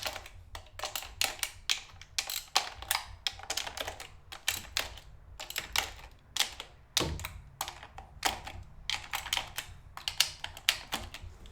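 Ratchet breaking loose 10mm coil nuts on a BMW M50 engine in an E34 525i: rapid dense clicking in repeated bursts throughout, close and fairly loud, with occasional heavier knocks.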